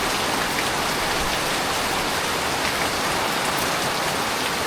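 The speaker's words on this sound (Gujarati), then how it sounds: "વરસાદ એવો પડે છે ને કે વાત જવા દો" Heavy monsoon rain pouring at Pavagadh Mahakali Temple, a dense, constant hiss of downpour drumming on surfaces with no let-up and no voices.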